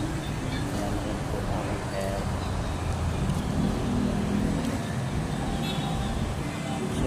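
Steady rumble of cars and other vehicles in the parking area of a transport terminal, a continuous close traffic drone throughout, with people talking over it.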